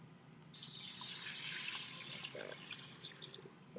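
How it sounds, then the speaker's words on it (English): Tap water pours steadily into a coil cooler loaded with ice for a lab extraction, a close, continuous rushing splash that begins abruptly and runs on with small bubbling variations. "And then we're going to put in some tap water."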